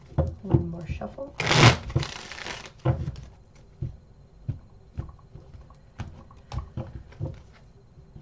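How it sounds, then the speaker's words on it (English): Tarot cards are riffled and shuffled close up, with one longer riffling burst followed by a series of soft taps and slaps; a voice speaks intermittently. "One more shuffle."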